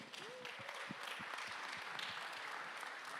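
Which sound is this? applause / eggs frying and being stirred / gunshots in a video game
applause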